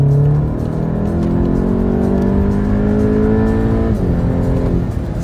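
A Renault Mégane RS engine revs up, its rough, raspy note climbing steadily in pitch, dipping briefly, then climbing again near the end, loud and close with no voices.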